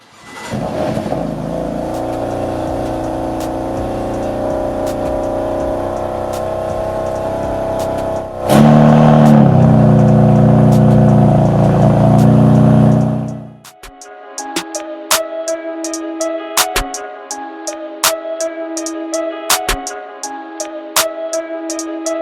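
Engine of a BMW M4 idling steadily, then revving loudly and holding high for several seconds before cutting out, after which sharp clicks and music-like tones follow.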